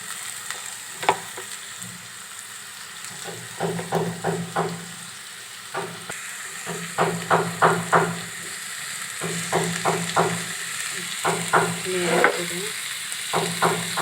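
Shrimp fry in a pan with turmeric and salt, giving a steady sizzle broken by bursts of rapid scraping and stirring strokes, close and fairly loud.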